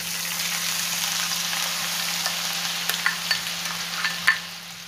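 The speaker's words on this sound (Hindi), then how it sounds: "प्याज को हम कुछ देर फ्राई करेंगे, लाइट ब्राउन कलर आने तक हम प्याज को फ्राई करेंगे" Chopped onions fry in hot oil with a steady, close sizzle and crackle, with a few light clinks from stirring and a low hum beneath.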